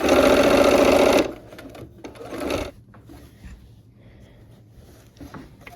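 A sewing machine runs in one steady burst, stitching fabric along a quarter-inch seam allowance for a Christmas block-of-the-month quilt, then stops and leaves quiet handling of the cloth.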